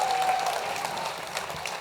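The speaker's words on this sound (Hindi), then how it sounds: "अपने नौजवान दोस्तों के लिए पहले जोरदार ताली बजाइए।" A studio audience at a Hindi comedy show applauds young teenage guests, a steady dense wash of clapping that runs throughout without a break and with no voices on top.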